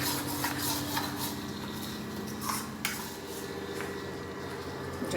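A spoon stirs a Filipino home-cooked dish with gravy and salt in a pan, giving soft scraping and clinking of utensil against metal, faint and continuous under a low background hum.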